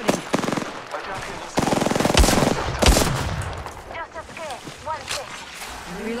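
Rapid automatic gunfire in a video game shootout, bursts of sharp shots clustered in the first half, with loud overlapping game effects and a voice talking over them.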